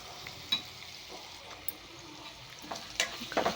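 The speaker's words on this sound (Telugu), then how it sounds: "అల్లం వెల్లుల్లి పేస్ట్ది కొంచెం పచ్చి స్మెల్ పోయేంత వరకు మనం ఫ్రై అయితే చేసుకోవాలి." Ginger garlic paste and capsicum fry in a pan, with a soft, low sizzle and scattered clicks and scrapes as a spoon stirs them.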